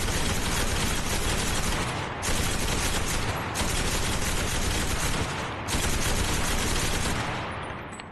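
A Bren machine gun in Enlisted fires in long, loud, sustained bursts with only brief pauses between them, and nobody talks.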